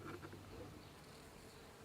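Australian native bees buzzing around large eucalypts at Port Germein, a faint steady insect drone with no voices, fairly distant and continuous throughout.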